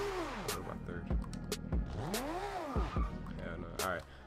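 Idle of a 2JZ-swapped Subaru BRZ in Forza Horizon 2, a steady loud engine drone with a rev that rises and falls, under someone talking.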